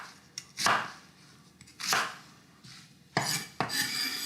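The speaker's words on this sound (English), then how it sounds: "we need to roughly chop up 1 large yellow or white onion." A knife roughly chopping a large yellow or white onion into big chunks on a cutting board, four sharp, distinct thuds with short pauses between them, close and clear with no talking.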